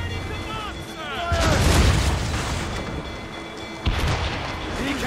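Ship cannon fire in the naval game Assassin's Creed Rogue: a heavy boom bursts in and rolls on, then a second sharp blast follows a few seconds later, loud over a churning battle bed.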